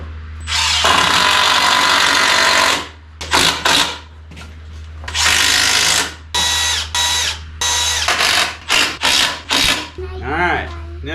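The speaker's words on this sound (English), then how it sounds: "we're going to take some screws and screw that board on" Bursts of a power drill driving screws into a wooden board for homemade stilts, loud whirring runs of varying length with short pauses between, ending in quicker stop-start spurts.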